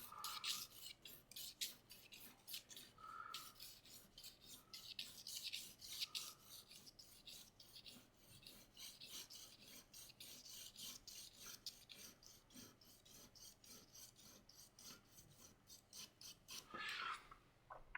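A pencil shades a cube on paper during a drawing class, steady rapid scratchy strokes rubbing back and forth close up for a long stretch, with a few faint higher squeaks.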